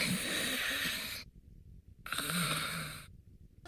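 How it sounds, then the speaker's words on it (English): A sleeping fighter in Super Smash Bros. Ultimate snores quietly in two long, breathy, hissing pulls with a silent gap between them, soft and close with no talk over it. "He's snoring, but it's more tolerable than usual"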